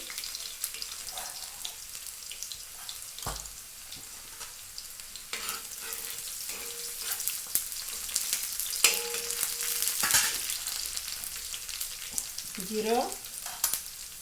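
Cumin seeds fry with browned onion in a pan, a soft hiss and crackle with scattered stirring knocks and scrapes, fairly faint and close, with no voices.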